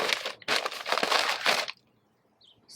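Sheets of newspaper handled and crumpled by hand during tree transplanting, in two loud crinkling bursts, the second longer, followed by near silence.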